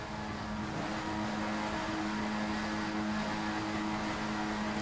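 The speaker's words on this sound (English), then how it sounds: "I do hear already some people still revving up." Race cars revving engines on the grid at the Nürburgring in a racing video game, a continuous droning engine hum with a steady tone, fairly constant in level throughout.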